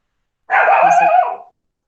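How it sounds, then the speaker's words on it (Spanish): A dog lets out one sustained, voiced bark or yelp lasting about a second, close and fairly loud, picked up through an open microphone during an online class call. "Ahí habla el perro de Luján."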